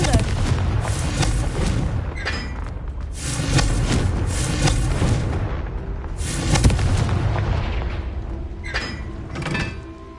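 Confringo fire-blast spell detonating in Hogwarts Legacy, a series of heavy booming blasts spaced a couple of seconds apart over a continuous rumbling game backdrop.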